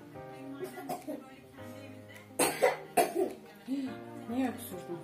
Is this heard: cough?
yes